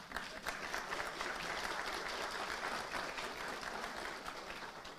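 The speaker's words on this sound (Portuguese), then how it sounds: "E nós deveríamos aplaudi-las." Steady clapping from a lecture audience at a talk, fairly distant and even in intensity throughout, with no voices over it.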